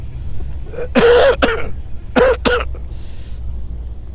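Two pairs of sharp, close coughs, each pair quickly repeated, separated by a short pause over a low background rumble, outdoors on a street in Brooklyn, New York.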